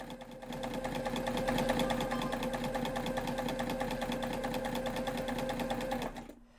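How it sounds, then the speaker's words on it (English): A sewing machine stitches a backpack, a steady rapid mechanical chatter running evenly for several seconds at close range before stopping abruptly. "I do love the sound of the sewing machine"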